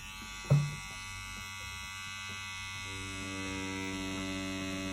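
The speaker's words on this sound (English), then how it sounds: "we're gonna put it into the truly wireless tattoo machine, the WE, and we're gonna pull a couple of more lines with that at the same voltage" A truly wireless tattoo machine runs at steady voltage while pulling lines, giving a continuous even electric buzz with a sharp click at the start, close and alone.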